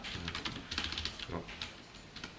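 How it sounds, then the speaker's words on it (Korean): Several quick computer-keyboard key presses for a Ctrl+K, U shortcut while coding in C, crisp close clicks in a short irregular cluster over faint room noise. "푸실 때는 컨트롤 KU를 누르면 주석이 풀립니다"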